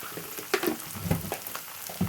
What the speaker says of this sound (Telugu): 1 స్పూన్ అల్లం వెల్లుల్లి పేస్ట్ వేసుకుంటున్నాను.